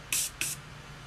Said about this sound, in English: we are going to be using the Continuous Setting Mist from Morphe.